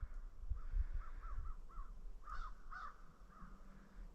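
A crow caws repeatedly from a snowy treetop at sunrise, a series of hoarse calls at a moderate distance over a low, quiet outdoor rumble, with no talking.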